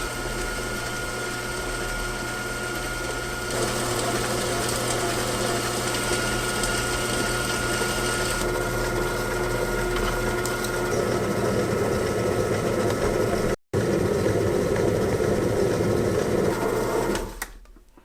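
An Ultra Dura table top wet grinder churns soaked rice with water, a steady close mechanical whir and hum with a faint wet rumble that runs continuously, briefly cutting out once before resuming.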